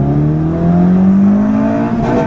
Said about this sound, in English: Oh, wheel spin there, second gear.